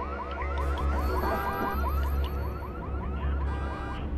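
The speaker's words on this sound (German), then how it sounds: "Dann lösen wir mal den Alarm aus." An alarm triggered in the video game Watch Dogs gives a steady run of rapid, repeating electronic chirps and warbles over a constant low hum, loud and continuous throughout.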